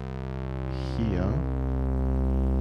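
A fuzz pedal fed a quiet sine input produces a steady, fluty, reedy tone rich in even harmonics, briefly warbling around its middle before settling, held alone at moderate level.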